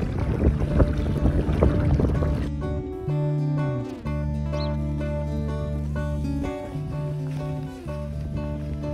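A small boat's engine drones steadily while heading ashore, with wind rushing over the microphone at first before settling into a lower, even motor hum with slight shifts in pitch.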